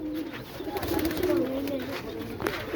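A crowded loft of fancy pigeons, teddy and raisin types kept for sale, keeps up continuous low cooing, several birds calling over one another nearby, with a faint voice now and then beneath the calls.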